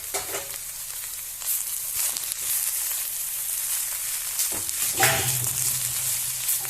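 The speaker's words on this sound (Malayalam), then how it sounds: "ഒപ്പം തന്നെ നമ്മൾ ചിരകി വെച്ചിരിക്കുന്ന തേങ്ങ കൂടി ഇട്ട് നന്നായി ഇളക്കുക" Grated coconut fries in a pan with a steady, loud sizzle and hiss while a spoon stirs it, adding occasional scraping strokes, close and continuous with no talking.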